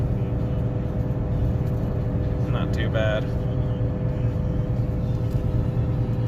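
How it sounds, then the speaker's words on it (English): A 2019 Ford F-350 tows a load down steep 5 to 6 percent mountain grades in the Rockies with its exhaust brake engaged, giving a steady, loud, low engine drone throughout while someone speaks briefly midway. "A little bit of exhaust brake help."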